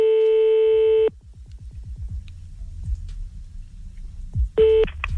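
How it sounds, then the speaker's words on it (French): A telephone call is placed with a long steady tone, then a rapid run of dialing pulses and clicks, ending in another short tone burst, loud and close with no voices. "On y va en appel comme d'habitude grâce au numéro que vous envoyez"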